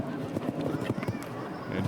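Hooves of a show-jumping horse named Double H Carlos at Spruce Meadows thud in a quick rhythm, partly masked by a commentator's voice and crowd ambience.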